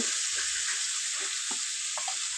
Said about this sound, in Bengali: আমি এর মধ্যে দিয়ে দিলাম লঙ্কা গুঁড়ো আর হলুদের মিশ্রণটা কিন্তু সাহায্যে একটু নেড়ে নেব